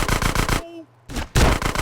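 In GTA San Andreas, CJ fires two machine pistols at once, producing loud rapid-fire bursts of game gunfire that cut off briefly, then resume just as fast and close.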